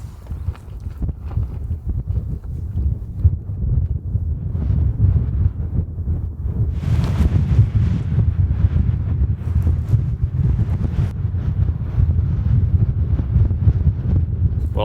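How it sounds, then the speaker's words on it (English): Strong wind gusts buffet a mountain campsite in a rainstorm, a steady loud low roar with microphone rumble that swells and surges for the whole stretch, alone with no talk. "The occasional big wind gust comes through"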